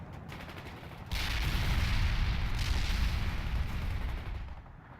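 Battlefield combat in the World in Conflict game: grenade blasts and gunfire merge into a loud, dense rumble of explosions and rapid shots that surges after a brief quieter opening, then fades toward the end.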